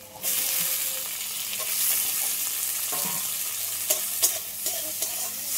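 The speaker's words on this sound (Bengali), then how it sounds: "পেঁয়াজটা হালকা করে ভাজা হয়ে গেছে, এবার দিয়ে দেবো টমেটো কুচি।" Chopped tomato and onion sizzle steadily in a hot wok, and sharp stirring clacks pick up near the end.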